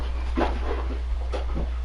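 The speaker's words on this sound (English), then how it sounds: "that's your mama's dog playing with the bottle." A dog plays with a bottle indoors, making a few soft scattered rustles and crinkling bursts over a steady low electrical hum, with no voices.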